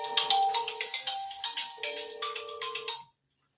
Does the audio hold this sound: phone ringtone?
yes